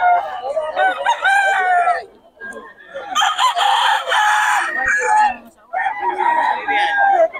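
Roosters crowing loudly at a poultry seller's place in Bocaue, with several long overlapping crows and clucking, close and strong, nearly filling the stretch with a short pause in the middle.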